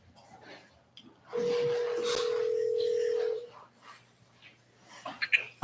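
A telephone call being placed at a commission meeting, a single steady tone lasting about two seconds amid room noise, with faint voices nearby.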